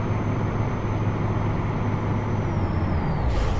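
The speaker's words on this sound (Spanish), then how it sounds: "Vamos poniendo freno de motor por acá." A Freightliner Classic XL truck towing a double trailer on a Colombian highway, its engine brake giving a loud, steady low rumble of engine and road noise with no talk.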